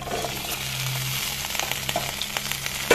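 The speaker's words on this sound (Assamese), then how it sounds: "এইফালে কেৰাহীত অলৰেডি তেল গৰম হ'বলৈ দি দিছিলো এতিয়া ইয়াত ভিন্দিখিনি দি দিম" Okra frying in hot oil in a wok for an okra, potato and fish curry, a steady close sizzle and crackle with light spits and a stirring knock at the end.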